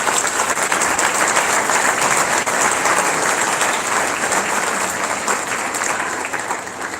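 Sustained applause from an indoor audience at a Diwali celebration and dance evening, steady dense clapping throughout that tapers slightly near the end, honoring the caterers of an Indian cuisine dinner.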